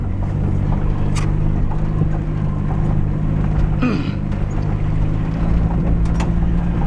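A VW 1.6L diesel caravan with no power steering drives along, its engine a steady low drone under wind and road rumble, with a few faint clicks and squeaks.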